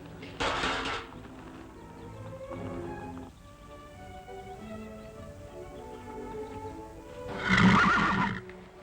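Horses neigh loudly during a horse fight, with a strong whinny near the start, a softer call around the middle and another loud, close neigh near the end, plus faint hoof clatter between them.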